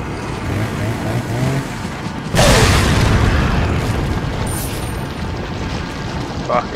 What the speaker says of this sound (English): that grenade took care of everyone